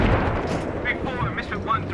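Heavy gunfire and booming explosions in the Battlefield 3 campaign, dense and continuous with sharp blasts, loud and close, while a player talks over the din.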